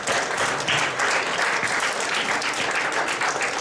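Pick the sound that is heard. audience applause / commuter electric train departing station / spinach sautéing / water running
audience applause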